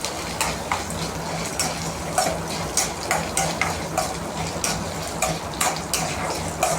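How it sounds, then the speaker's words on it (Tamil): Ginger, garlic and onion fry in oil alongside lentils for a mint chutney. A spatula stirs and scrapes in a steady, rhythmic beat of close metallic clicks over a low, constant sizzle. "அப்புறம் இஞ்சி பூண்டு போட்டுக்கிறேன். இதையும் நல்லா ஃப்ரை பண்ணி விட்டுடலாம்."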